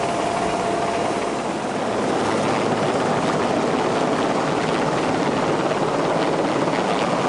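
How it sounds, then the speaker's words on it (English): A helicopter during a sea evacuation sends out a loud, steady roar of rotor and engine noise that fills the whole stretch without pause, close and unbroken, with no voices. "Helicopter evacuation takes place very quickly."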